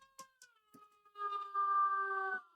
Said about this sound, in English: something's out there getting my cat all wound up